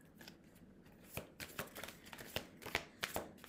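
Tarot cards are shuffled and drawn by hand in a quiet room, making soft riffling and slapping flutters. Crisp card snaps grow denser toward the end, all close and fairly faint.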